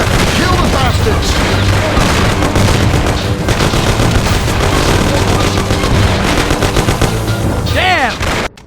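Heavy gunfire rages through a shootout in the game Mafia, dense bursts of shots and booming impacts packed close together and loud throughout, with shouting voices mixed in beneath the racket.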